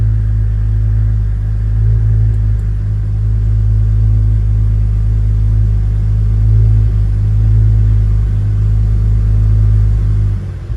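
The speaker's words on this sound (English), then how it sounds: "It's almost like a stock car, idling like a stock car." A built Toyota Supra MK4 engine making around 1000 horsepower idles steadily with a deep, loud, even rumble and no breaks, ending abruptly.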